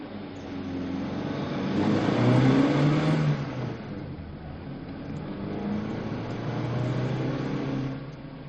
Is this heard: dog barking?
no